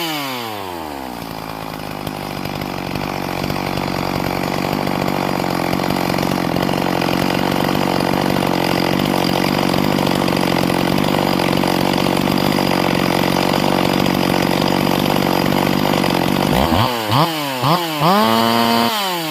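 A tuned Stihl MS 440 chainsaw runs loud and steady at high revs for most of the time after a carburetor adjustment, then revs up and down in several sharp bursts near the end.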